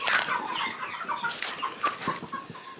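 A flock of farm chickens clucking busily, overlapping squawks and short cackles close by at moderate volume, with no voices.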